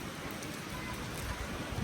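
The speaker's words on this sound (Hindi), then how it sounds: "बाहर तो खूब वर्षा हो रही है" Heavy rain falls outside in a steady, dense hiss that continues unbroken and evenly loud throughout.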